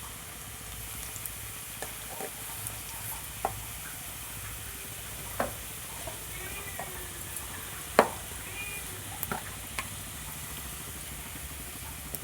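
Spices with turmeric added sizzling in a hot pan, a steady frying hiss with occasional sharp ticks and scrapes from stirring.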